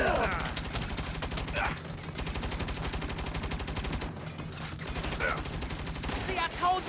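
Rapid turret gunfire from an APC in the video game Saints Row, dense continuous bursts with game voices talking over it.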